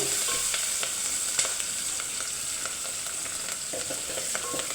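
Onions and curry leaves fry in oil for a brinjal curd curry, a steady close sizzle with occasional stirring scrapes and clicks from the pan, heard alone without talk.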